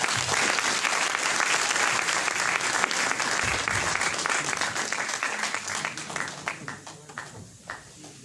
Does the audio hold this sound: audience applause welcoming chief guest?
yes